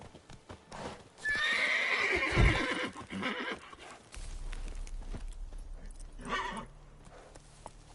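A horse gives a loud, close whinny, followed by a steady clip-clop of hooves on the move beneath a low rumble, with a brief quieter whinny later on.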